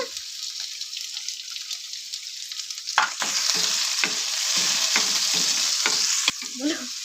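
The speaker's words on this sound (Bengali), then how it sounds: "এগুলো আমি একটু হালকা করে ভেজে নেবো, বেশি ভাজবো না।" Kofta ingredients for chicken malai kofta lightly frying in a little oil: a steady close sizzle with repeated scraping stirs against the pan, getting busier partway through.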